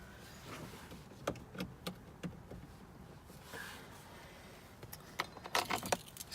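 An ignition key is handled inside a truck, giving faint, scattered metallic jingles and clicks in short bursts over quiet cab background.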